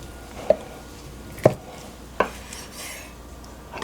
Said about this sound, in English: I'm going to cut this in half